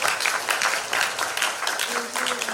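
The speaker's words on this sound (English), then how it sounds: "Let's have big applause for our speakers" A seated audience at a high-level policy dialogue session applauds its speakers with a dense, even patter of clapping, with a voice faintly heard near the end.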